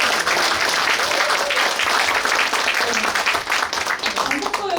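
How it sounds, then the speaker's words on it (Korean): An audience at a lawmaker's evening constituency report meeting in Suncheon breaks into sustained, dense applause, loud and close, with a few voices mixed in. "저희 고생한 보좌진들에게 고생했다고 박수 한 번만"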